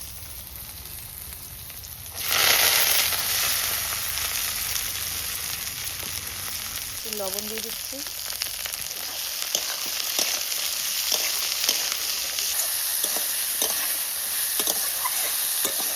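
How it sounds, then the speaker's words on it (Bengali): Beans, carrots and curry leaves fry in an oily pan with a steady, even sizzle that swells briefly as something is added. A voice speaks briefly over the hiss. "এখন এগুলো ভেজে নেব যে বিনস গাজর আর এর সঙ্গে কারি পাতা রয়েছে"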